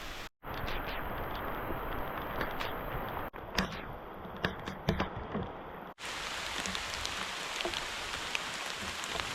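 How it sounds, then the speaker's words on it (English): Steady rain patters on the ground and leaves along the Pine Mountain Trail during a thunderstorm, with a dense, constant hiss and a few brief gaps, and no voices over it. "Oh yeah, it's raining."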